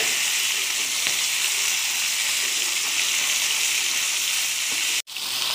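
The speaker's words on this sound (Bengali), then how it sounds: "মাছের পেটির পিসগুলো আর হলো মাথাগুলো ভেজে নিচ্ছি ভালো করে" Rohu fish belly pieces and heads frying in hot oil, a loud close continuous sizzle with a bright hiss and faint crackles that cuts out sharply for an instant near the end, no talking.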